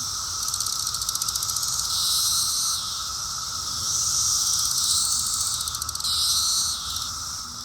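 A dense chorus of periodical cicadas, Brood X, in woodland, a continuous high shrill drone that swells and fades in broad waves, steady and enveloping without a break, with no voices.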